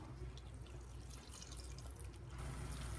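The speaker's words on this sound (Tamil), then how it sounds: "ஒரு 1/2 டம்ளர் தண்ணி விட்டுக்கலாம்." Water pours into a pan of spinach being cooked with salt, a steady, soft trickle and splash that continues throughout the clip.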